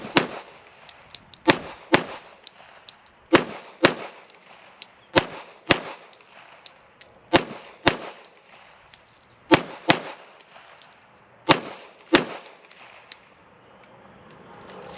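An FDE ADE Delta pistol fires .45 ACP steel-case rounds in quick pairs. Loud, sharp reports sound about sixteen times over fifteen seconds, with short pauses between the doubles.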